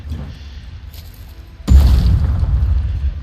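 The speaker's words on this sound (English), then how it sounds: "I'm going to have her throw in a fragmentation grenade" A fragmentation grenade goes off in a video game: after a quiet stretch, a sudden heavy low boom erupts and rolls on as a sustained rumble, loud and close.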